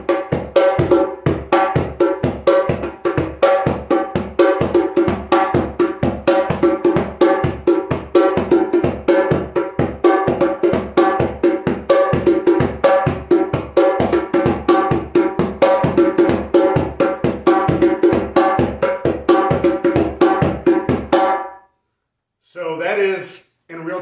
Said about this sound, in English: So today we are going to cover a rhythm on the djembe called Macrou.